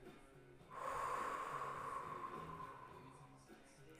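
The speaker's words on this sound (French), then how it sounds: "j'expire. J'inspire" A slow, steady breath drawn in and let out during a guided meditation, one long airy exhale swelling and fading over a few seconds, close and alone with no talk.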